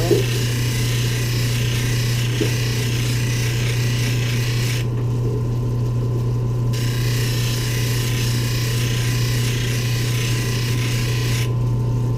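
A lapidary grinding wheel shapes a large fuchsite cabochon stone, giving a steady, loud whirring grind with a constant motor hum and a rough rasping texture as the stone moves back and forth, briefly dropping in brightness mid-way.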